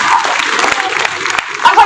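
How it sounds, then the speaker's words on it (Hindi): Audience at a college comic poetry event clapping in a dense, continuous patter of hands, moderately close, filling the brief moment without a break. "एक बार तालियां बजाइए"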